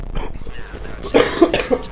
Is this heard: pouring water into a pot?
no